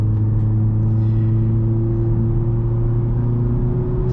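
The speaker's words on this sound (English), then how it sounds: "Honda added speakers inside the car that imitate the engine noise inside" Synthetic engine sound from the cabin speakers of a Honda Civic Type-R, a steady low droning hum with a faint whir that holds evenly throughout, heard from inside the car.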